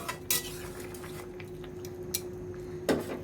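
Metal clanks ring out as a lid is set on a pot of thin fish curry with ridge gourd, three or four distinct clinks over a quiet steady hum in a home kitchen.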